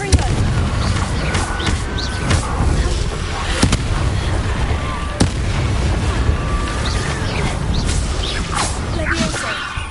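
Confringo fire spell explosions in the Hogwarts video game: repeated booming bursts and crackling blasts over a dense, noisy battle bed, with a voice shouting spell names in between.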